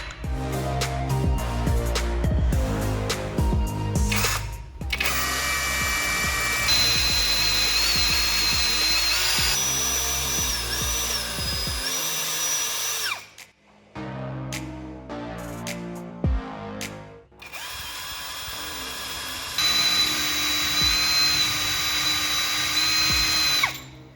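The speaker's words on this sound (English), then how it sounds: "Then drill holes and fix 3 nails into these positions." A power drill runs in long, loud bursts into wood, pausing briefly between holes, its motor pitch shifting as it bites.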